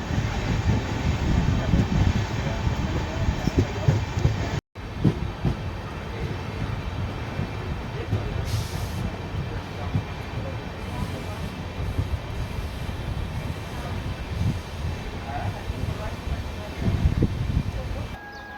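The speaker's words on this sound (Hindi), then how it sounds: "जैसा कि आप देख पा रहे हैं सामने से आ रही है भुवनेश्वर तेजस राजधानी" Bhubaneswar Tejas Rajdhani express rushing past a train held on a loop line, a loud, steady rumble of wheels and wind that carries through the whole stretch, with a brief cut midway.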